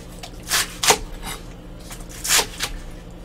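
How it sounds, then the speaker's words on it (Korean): A knife chops green onions on a cutting board while summer young radish kimchi is being made, giving about six sharp, uneven thunks close by with short pauses between them. "열무랑 같은 크기로 당연히 썰어야겠죠."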